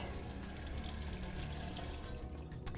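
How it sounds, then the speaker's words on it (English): Cold water runs steadily from a kitchen faucet as food is rinsed in the sink, a close, constant splashing stream with slight shifts near the end and no talking. "now I'm going to come over to the sink and just rinse these off with some cold water"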